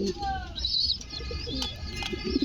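A racer pigeon coos in short low bursts among other faint birdsong and chirps, close by, with brief murmurs of nearby voices.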